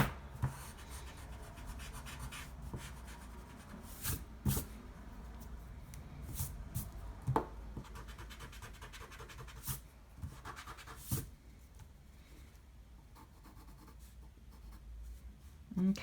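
Pencil scratching and an eraser rubbing out helper lines on paper during a thumbnail sketch, soft and close with irregular strokes and brief louder scrubs.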